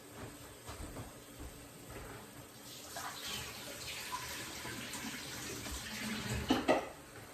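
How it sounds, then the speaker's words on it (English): Tap water running steadily into a sink while hands are washed, a continuous close splashing rush that grows slightly busier toward the end. "Let me go wash my hands, please."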